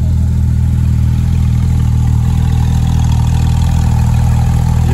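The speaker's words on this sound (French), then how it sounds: "Une belle Porsche GT3 RS." A Porsche GT3 RS engine at a rally runs steadily and loudly nearby, a constant low throbbing drone with a dense mechanical texture and no pauses over a few seconds.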